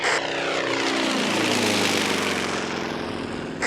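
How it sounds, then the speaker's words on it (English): A Yak-50 aerobatic plane's propeller engine roars loudly and continuously as it accelerates and climbs after takeoff, its pitch sweeping upward. "We're accelerating and climbing away from the airport."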